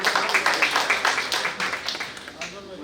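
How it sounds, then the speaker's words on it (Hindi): An audience at an all-India Unani medicine meeting gives a short round of applause, moderately loud clapping that pulses and fades under a speaker's voice. "एक बार जोरदार तालियां।"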